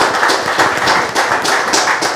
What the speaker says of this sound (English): Round of applause, please, for Michael and Starry